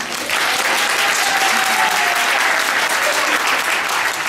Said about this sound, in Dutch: Ja, applaus voor de moeders.